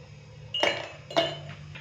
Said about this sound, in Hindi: तो गिलासों के अंदर सबसे पहले हम बर्फ डालेंगे।